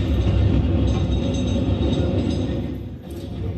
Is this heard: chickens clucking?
no